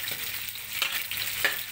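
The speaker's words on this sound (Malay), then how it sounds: "Jadi kita goreng sehingga betul-betul masak" Stink beans (petai) in their skins fry with shrimp in a pan for sambal, giving a steady close sizzle with a few sharp crackles and pops and no talking.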